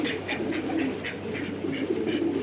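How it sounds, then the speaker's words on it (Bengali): Pigeons feeding nearby give a run of soft, evenly spaced coos and calls over a low ambient hum, close and moderately quiet. "সবাই দেখতেছেন কবুতরগুলা খাবার খাইতেছে।"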